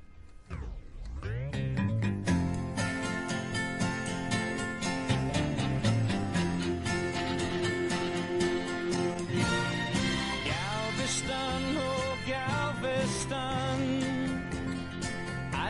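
A country pop song plays continuously, with full band instrumentation and a steady, lively arrangement that builds early and holds throughout.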